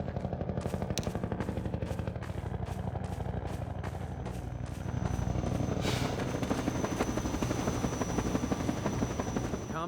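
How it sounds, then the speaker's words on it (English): A Combine attack helicopter from Half-Life 2 thunders nearby, its rotor beating in a fast, relentless rhythm with a heavy engine drone that swells louder midway and stays continuous throughout. "here's where we fully introduce the main boss of the Canals chapter, the Combine attack helicopter"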